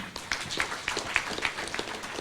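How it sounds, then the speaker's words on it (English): Forum audience giving a round of applause: a small crowd's scattered, moderately loud hand claps patter steadily and irregularly, sounding fairly close without any voices on top. "A big round of applause for that"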